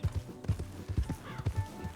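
Horse hooves in the Red Dead Online video game, a steady trotting clip-clop of regular, fairly close hoofbeats over about two seconds.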